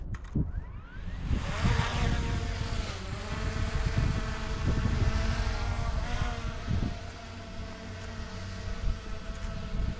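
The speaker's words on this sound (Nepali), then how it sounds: "सो अब हामी ड्रोन पठाउँछौँ त्यहाँसम्म" A camera drone flies near Victoria, Canada, with a steady, close propeller whine and buzz that holds throughout. A few slight pitch shifts suggest changes in speed, and no one talks.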